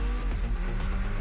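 A car in the racing video game Super Street The Game skids under the handbrake, a short burst of loud engine roar with tire squeal and rough skidding noise, with no talk over it.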